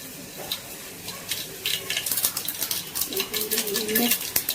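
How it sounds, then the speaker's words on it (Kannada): Mustard seeds go into hot oil for a radish sambar, and a dense crackling and spitting sizzle builds and grows louder near the end. A voice sounds faintly underneath. "ಸೊ ಎಣ್ಣೆ ಕಾಯಿದೆ, ಸಾಸಿವೆ ಹಾಕೋಣ."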